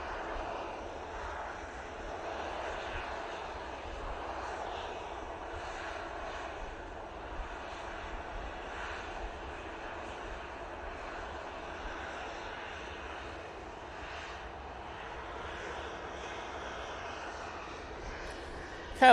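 KLM Embraer regional airliner at Manchester Airport, its jet engines producing a steady, moderately distant roar that holds evenly throughout with no talk over it.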